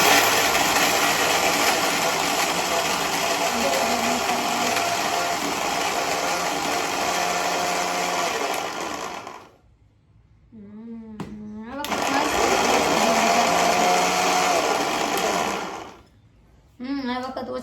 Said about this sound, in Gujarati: પાછું કરશે મિક્સર.